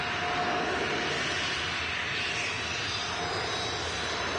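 A Hamburg business jet at Manchester Airport produces a steady, broadband roar that holds at an even level throughout, moderately distant, with no talk over it.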